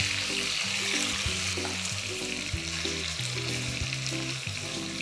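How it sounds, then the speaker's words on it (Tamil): Mutton pieces fry in a pan with a constant loud sizzle while a spoon stirs them, scraping and clattering in an irregular rhythm, close up and without talk. "மட்டன் சேர்த்ததும் நல்லா கிளறி விட்டுக்கலாம்."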